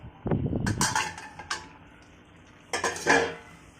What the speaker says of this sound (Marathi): आता आपण याच्यावरचं झाकण काढून घेणार आहोत